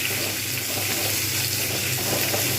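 Potatoes and onions fry together in a pan, giving a steady, even sizzle and crackle that runs without a break, with no talking.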